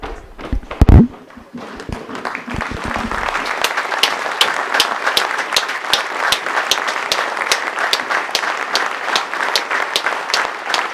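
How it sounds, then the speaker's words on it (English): A stadium crowd gives a minute's applause in memory of a Huddersfield Giants Academy rugby league player before a match, beginning after a few loud thumps and building into steady, sustained clapping spread across the ground. "We ask that you join us in a minute's applause to celebrate the life of Huddersfield Giants Academy player Ronan Costello"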